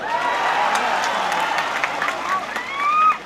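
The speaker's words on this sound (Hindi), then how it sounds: "एक बार आप अपने लिए ताली बजाएं।" An audience at a political rally breaks into clapping and cheering, a dense wash of crowd noise with raised voices and whistle-like calls that grows louder toward the end.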